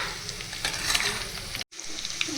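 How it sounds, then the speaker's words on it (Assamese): Chicken and onions frying for chicken biryani give a loud, continuous close sizzle with stirring scrapes, broken by a brief cut to silence before the frying resumes. "এতিয়া মই মাংসখিনি ইয়াতে ঢালি দিম।"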